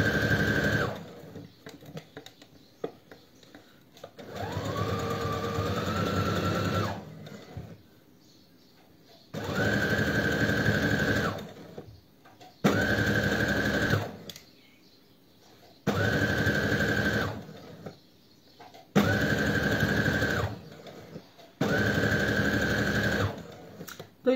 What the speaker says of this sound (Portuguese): Estou a cozer agora o forro.